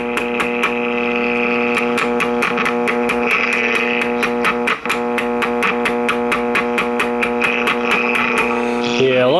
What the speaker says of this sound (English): You can hear the hum go away